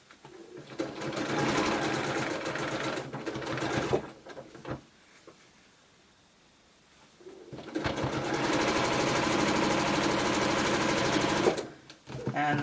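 A sewing machine stitches quilt fabric pieces together for a wonky twisted windmills quilt block, running in two loud steady bursts separated by a quiet pause, with no talk.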